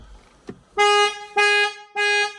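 A Ford Puma's alarm sounds three loud, sustained car horn blasts in an even rhythm, each about half a second, close by, after a faint click.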